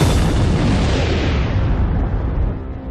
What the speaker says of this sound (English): The explosion is a supernova, an immense burst of radiation that briefly outshines an entire galaxy.